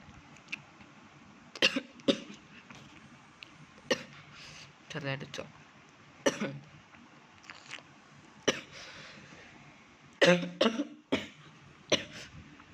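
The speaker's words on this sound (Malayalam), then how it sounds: "ചെറുതായിട്ട് ചുമ അടിച്ചെനിക്ക്." A person coughs in several short, sharp bursts scattered among bits of their own talk while playing a mobile football game, close to the mic.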